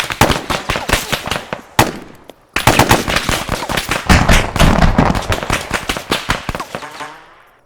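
In the game Arma 3, rapid bursts of automatic gunfire from an AI vehicle firing at a building crack loudly and repeatedly, with a brief pause before another long sustained volley that fades out at the end.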